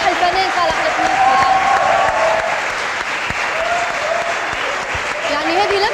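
A large audience at a tribute to a singer breaks into loud, sustained applause, dense clapping that stays strong throughout with a faint voice carrying over it.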